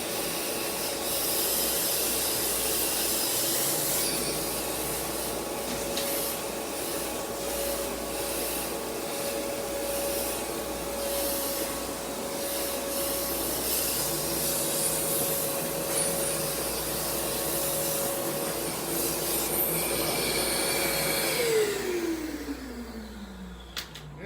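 An Oneida Air Systems cyclone dust collector runs loud and steady as dust and debris are sucked through it into a bucket, with rough rushing and rattling throughout and the motor winding down at the end.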